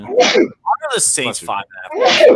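Two sharp sneezes burst out at the start and end, with a person speaking briefly between them.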